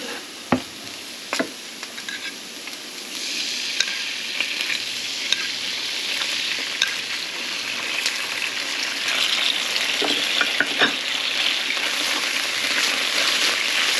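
Noodles sauté in a hot pan and sizzle steadily, with occasional clicks and scrapes of stirring as the frying builds louder toward the end.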